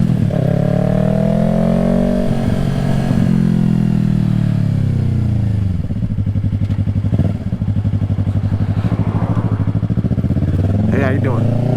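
A 2020 Yamaha R3 sport motorcycle is ridden, its engine a close, continuous drone that rises and falls in pitch as it revs and shifts, with wind rush alongside.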